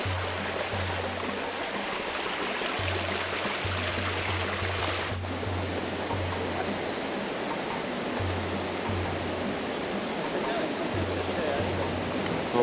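A mountain stream in Madagascar rushes in a steady, dense wash of water noise from close by, unbroken for the whole stretch, with a low intermittent hum underneath.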